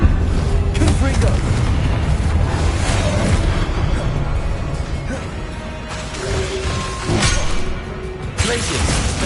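A Confringo fire spell explodes in a Hogwarts Legacy-style wizard game, a loud, sustained booming blast with rumbling crashes that swell and recede over several seconds, layered with game effects.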